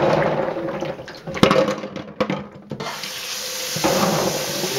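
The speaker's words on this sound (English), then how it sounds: "we're just about ready for the third rinsing" Black walnuts are rinsed with water in a kitchen sink, with a steady rush of running water and splashing, and knocks and rattles from the nuts being stirred, close and fairly loud.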